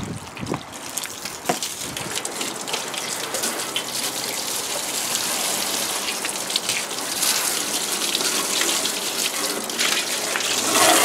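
A hose sprays water over a split system air conditioner condenser during maintenance, a steady hissing, spattering rinse that grows slightly louder and fuller as it goes, with a few sharper knocks early on.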